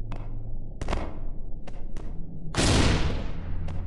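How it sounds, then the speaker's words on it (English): A bomb blast in a cafe-themed video game, a few sharp thuds then a big, loud explosion with a long crackling tail, over low game background noise. "Oh, I'm throwing a bomb."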